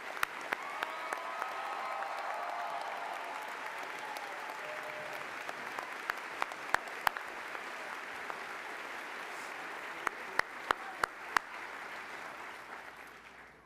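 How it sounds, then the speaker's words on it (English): Audience applause at the Oklahoma Christian University 2019 spring commencement for a new Army lieutenant, a broad sustained wash of clapping across a large hall with occasional sharp nearby claps standing out. "Please join me in a round of applause to congratulate the United States Army's newest lieutenant."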